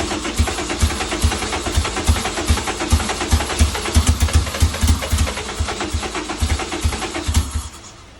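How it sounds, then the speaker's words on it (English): Honda Integra with a K-swap engine cranking and trying to fire, a loud rapid rhythmic chugging that runs steadily for about eight seconds before dying away, with no one talking over it. "See if we can get it to fire up one more time."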